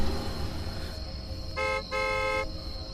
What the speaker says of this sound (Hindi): 2 बार हॉर्न बजाते ही दरवाजा धीरे धीरे खुलने लगा।